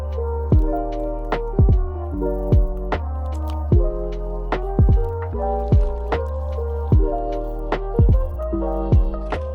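A car headlight is wet sanded by hand with sandpaper and water, making a steady run of short squeaky, squelching rubbing strokes in an even back-and-forth rhythm, close and moderately loud, with no talking.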